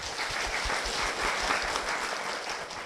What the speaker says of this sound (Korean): 최진희 집사님 박수로 모시겠습니다.